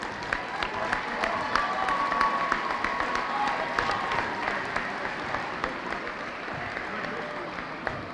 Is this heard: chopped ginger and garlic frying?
no